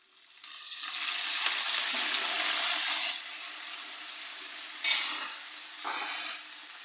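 Water poured into a pan of browned onions in hot oil, bursting into a loud, broad sizzle that holds for a few seconds, then fades, followed by two shorter sizzling flare-ups as the pan is stirred.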